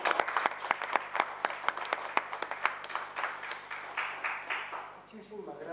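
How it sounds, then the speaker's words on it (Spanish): Applause from the audience at a world citizens' convention in 2015, sparse distinct claps thinning into steadier clapping and fading out near the end as a voice begins; moderately quiet. "Le damos un fuerte aplauso"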